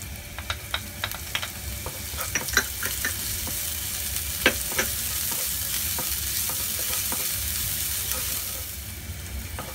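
Minced garlic and ginger stir-frying in a little oil in a hot wok, a steady loud sizzle broken by frequent sharp clinks and scrapes of the spatula, with no voices.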